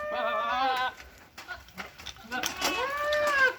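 Bucks among the goat herd in commotion on a farm, giving loud, wavering bleats up close in two main bursts with scuffling and softer sounds in between.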